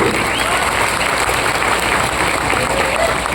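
Dense applause from a large crowd gathered at the Padinjattinkara Mahadeva temple in Kottarakkara, loud and continuous with no breaks, clapping close and steady throughout.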